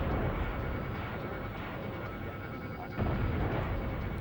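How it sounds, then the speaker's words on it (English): A Surefire missile launched at an airplane in an air-combat video game: a steady, loud roar of jet engine and launch noise fills the whole moment, with a sharper surge about three seconds in. "Sure, I'll fire a Surefire."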